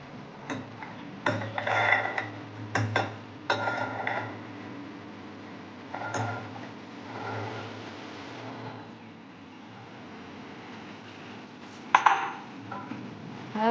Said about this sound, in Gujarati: હવે આપણે ચણાને કુકરમાં એડ કરશું